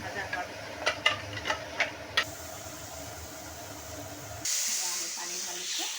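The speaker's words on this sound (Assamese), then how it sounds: "আমি পানী ঢালিছোঁ।" Water hits a hot pan of frying tomato and potato for a banana-flower kofta curry, a sudden steady hiss of steam after a few light taps and scrapes in the pan.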